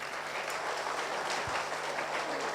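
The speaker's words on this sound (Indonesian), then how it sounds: "Tepuk tangan bagi anak kita." A church congregation claps for a child, a steady, full burst of many hands applauding nearby that holds an even level throughout, with a single low thump partway through.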